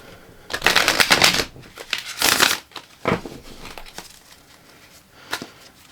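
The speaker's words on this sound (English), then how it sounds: "So I am shuffling those cards" A deck of tarot cards gets shuffled in several quick riffling bursts of crisp, papery flutter and slapping, close and fairly loud, separated by short pauses and ending in a few lighter taps.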